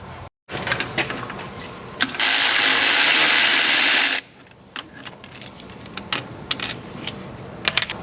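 A ratchet works off the old mechanical fuel pump from a classic car, giving close clicking turns and some metallic taps, broken by a loud two-second burst of hissing noise partway through.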